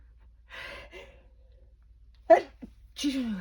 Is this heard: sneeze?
yes